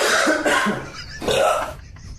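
A close, loud cough followed by a rough guttural burp, two harsh bursts in quick succession with no talking.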